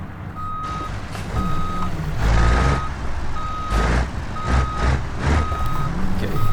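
A truck's reversing alarm beeps steadily and evenly, repeated about seven times while backing a trailer into a blocked-off spot, over a low engine rumble.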